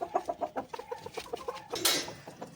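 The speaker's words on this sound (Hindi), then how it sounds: "ये देखो जी तो बड़े मज़े से अब मुर्गी खाने लग गई है जी" A hen clucks over and over while pecking at a feed mix of roti and wheat grain, the short soft clucks coming in quick rhythm close by, with one brief rustle partway through.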